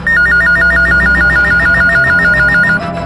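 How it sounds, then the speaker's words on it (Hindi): A telephone rings steadily in a police control room, its electronic warble pulsing in a fast, regular pattern for nearly three seconds before cutting off, loud and alone. "डायल 100 पर एक फोन कॉल आया था"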